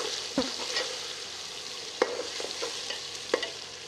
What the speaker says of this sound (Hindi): 2 चम्मच अदरक लहसुन का पेस्ट शामिल कर लेते हैं। इसे थोड़ा सा भून लेंगे।